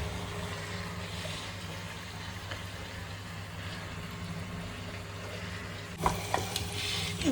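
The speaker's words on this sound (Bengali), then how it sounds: "মশলাটা কষানো হয়ে গেছে, এবার মাটন দেওয়া হচ্ছে।" Mutton added to spiced masala sizzling in a pan, a low, steady frying hiss under a faint background hum, with a few sharper clatters and scrapes near the end as the meat is stirred.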